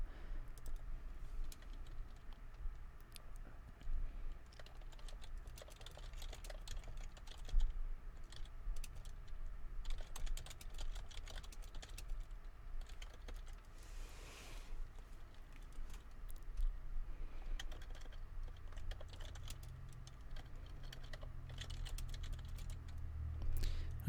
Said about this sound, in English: I'm not talking when I'm typing, but I'm typing stuff out.